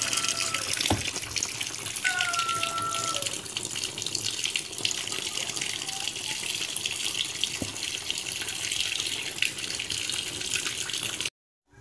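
Water gushes steadily into the tub of a Mueller 16 kg twin-tub washing machine, a continuous loud splashing and rushing flow that runs unbroken for several seconds before cutting off abruptly at the end.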